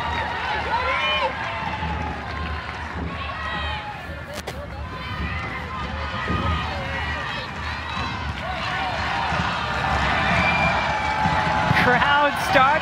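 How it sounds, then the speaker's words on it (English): A crowd at an NCAA women's soccer championship game, Santa Clara Broncos against Florida State Seminoles, swells steadily louder with broad cheering and shouting. "Crowd starting to get loud."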